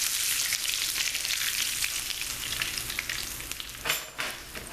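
Chicken fried steak sizzles in a pan just after being flipped, a dense, bright frying crackle that holds steady and then flares briefly near the end.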